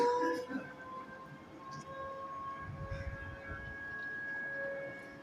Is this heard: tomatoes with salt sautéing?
no